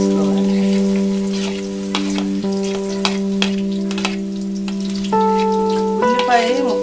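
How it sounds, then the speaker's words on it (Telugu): Onion pieces frying in hot oil, a loud steady crackle with scattered pops and occasional stirring knocks, partly covered by a strong sustained electronic hum that changes pitch partway through. "ఉల్లిపాయ ముక్కలు వేసుకుని బాగా ఏగనివ్వాలి."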